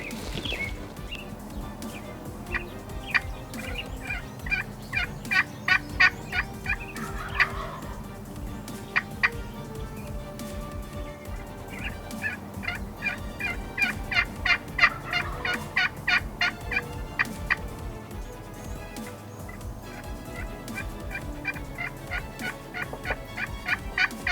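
Wild Rio Grande turkeys gobble in repeated rattling bursts at a moderate distance in Colorado, several calls clustering together over a quiet outdoor background.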